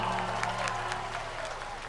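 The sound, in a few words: audience applause at a poetry recital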